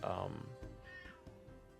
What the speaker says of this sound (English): that's my cat there.